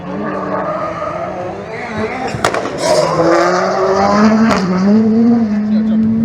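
Peugeot 207 Super 1600 rallycross car, about 200 horsepower with a six-speed gearbox, revving hard and shifting at a Euro RX event in Hungary, loud and close with rising engine tones and sharp transient bursts.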